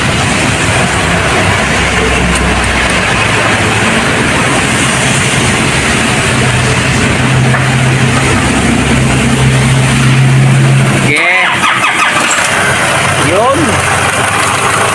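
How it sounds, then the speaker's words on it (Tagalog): A 2010 Nissan Navara engine runs at a steady idle, a constant low rumble that continues beneath someone talking throughout. "paandarin na natin yung Nissan Navara na 2010 model"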